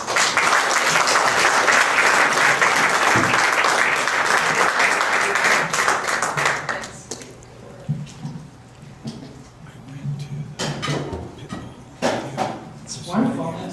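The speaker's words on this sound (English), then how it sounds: "please welcome her with a nice warm round of applause" A warm round of audience applause at a dinner and concert in a church hall, loud and dense for several seconds before thinning into scattered claps, with voices and clinks of dishes and cutlery afterward.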